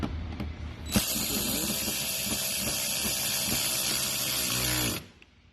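A power tool drives screws into a Hyundai Veloster mud guard, a loud steady whirring run lasting about four seconds that starts and stops abruptly, with faint clicks before it begins.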